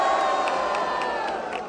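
A live rap battle crowd roars and cheers in support of a competitor's rhymes, a dense sustained wall of shouting and whooping voices that stays loud throughout.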